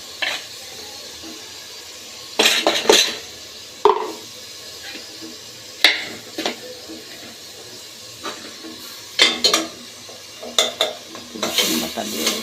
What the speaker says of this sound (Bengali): রসুন বাটা দিয়ে দিলাম।